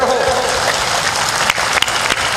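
An audience at a Hindi spiritual discourse keeps clapping, a steady wash of close, loud applause without pause.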